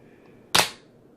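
A CZ P09 pistol fitted with an extended magazine has its slide released, producing a single sharp metallic snap followed by a short fading ring in a quiet room.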